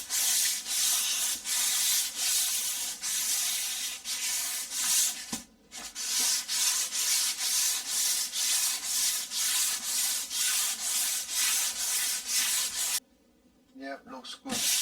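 Fine sandpaper of about 200 grit smooths filler over a repaired wall crack beneath a window, a close rhythmic rasping of steady back-and-forth strokes that continues with brief pauses.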